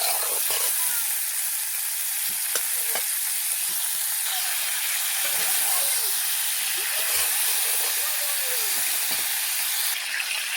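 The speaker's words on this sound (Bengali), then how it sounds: "ফুলকপিটাকে ভেজে নিয়েছি" Cauliflower fries in hot oil with a loud, continuous sizzle and hiss close by, and occasional soft stirring scrapes come through.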